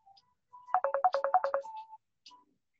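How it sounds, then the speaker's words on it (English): A WhatsApp call rings on a computer: a short electronic melody of rapid stepped tones, a quick rhythmic burst then a sustained note, fairly quiet and close, with no one speaking over it. "My computer's got WhatsApp now on it. It takes calls."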